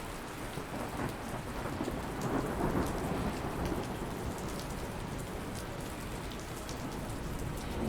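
Heavy rain pours steadily during a thunderstorm while low thunder rumbles and swells through the middle, a dense continuous wash with no voices.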